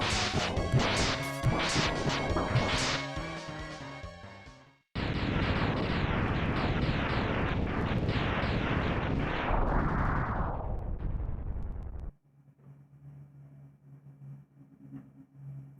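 Rockets exploding in the SNES Mega Man X mod Project Zero: a volley of sharp, crackling blasts, then a longer rumbling burst of explosions that fades, ending in quiet low game hum.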